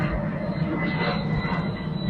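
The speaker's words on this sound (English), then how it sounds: "That's an Amazon plane" Amazon cargo airplane passing overhead near Lakeland Airport in rural Florida, a steady broad engine roar holding at even loudness throughout, with no talk over it.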